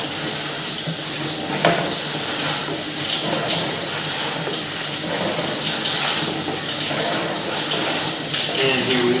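Water rushing steadily through an SDR 35 sewer drain pipe into the main line, a loud continuous hissing flow heard up close for the whole stretch, with faint clicks and scrapes underneath.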